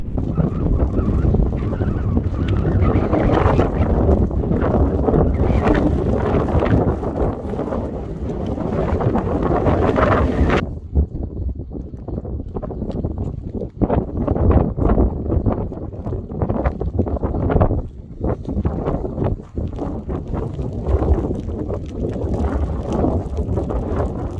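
Strong, gusting wind buffets the microphone in the Swedish mountains along the Kungsleden and Sarek wilderness, a loud continuous roar that drops briefly midway before surging back, with no voices.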